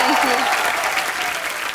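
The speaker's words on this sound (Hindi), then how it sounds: "ऐश्वर्या के लिए जोरदार तालियां" Studio audience on a Hindi comedy talk show applauding to welcome actress Aishwarya Rajesh, a dense, steady wash of many hands clapping with a host's voice and cheers briefly rising over it.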